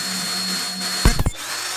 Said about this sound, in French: on va prendre la mèche puis on va aller percer directement dans le bonbon en plein milieu